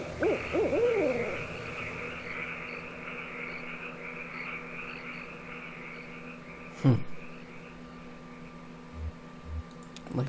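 An owl hoots a few times near the start in the adventure game Kentucky Route Zero, over a steady night ambience of insects and frogs, followed later by a sharp knock and a couple of soft thuds.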